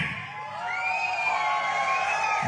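An audience at a special broadcast event cheers and applauds, a swelling wash of crowd cheering with rising whoops and voices, moderately distant and sustained, growing louder after a quieter start.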